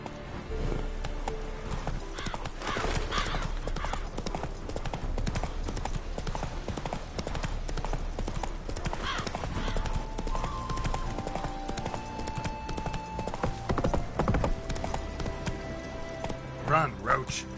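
Roach the horse gallops in The Witcher 3, rhythmic hoofbeats clopping steadily near and loud with occasional whinnies, while voices talk over the hooves.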